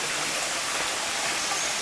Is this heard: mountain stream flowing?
yes